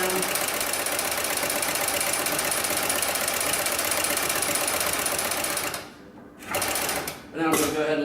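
A Paco Bazan 7273-ECO heavy flatbed sewing machine runs steadily in reverse, a loud continuous mechanical whir that stops abruptly, then restarts briefly in short bursts near the end.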